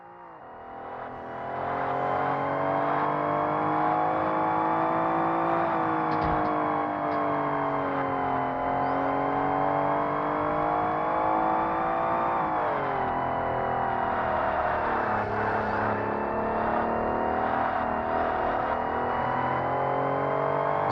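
Racing car engines in the original Forza Motorsport on Xbox drone loudly and continuously, with a sustained high-revving whine that rises and dips through gear changes and holds steady for the whole stretch without talk.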